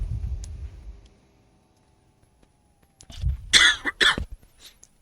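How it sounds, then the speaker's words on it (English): A person coughs twice in quick succession near the microphone, sharp and close, after a low rumble fades into near silence. "That was a cough"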